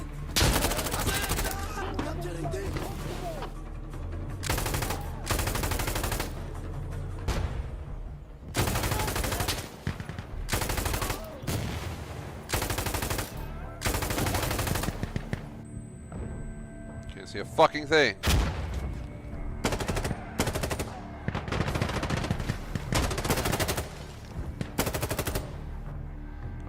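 Video game gunfire shoots through a wall in loud bursts of rapid automatic fire with heavy thuds, separated by short pauses, while someone talks between volleys.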